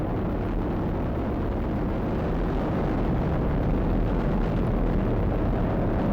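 SpaceX rocket engines roar during the CRS-18 launch from Cape Canaveral, a dense, unbroken crackling thunder holding loud and steady throughout.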